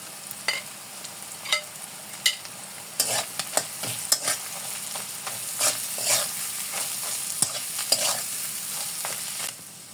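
Mashed potatoes with turmeric and chili powder are stirred in a pan for potato chop filling, a soft continuous sizzle beneath repeated scraping clicks of the spoon against the pan.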